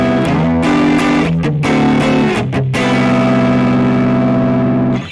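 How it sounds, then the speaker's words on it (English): A heavily distorted electric guitar plays sustained, crunchy chords, loud and continuous with a few brief breaks between strums. "you can hear it sounds very distorted"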